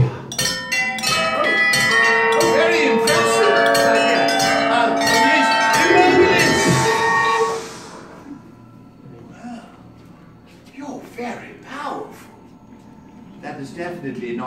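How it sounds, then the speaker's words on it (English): A bell is rung by a wand wave at a Universal Studios attraction, giving a loud, sustained ringing chime with rich harmonic tones for about seven seconds before it cuts off, followed by a host talking. "I'd like you to ring that bell there, a non-verbal spell"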